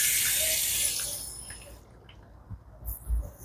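Running water splashes during a hair wash at a beauty parlor. A steady, loud rush fills the first second and a half, then it fades to quieter, intermittent splashes and dribbles.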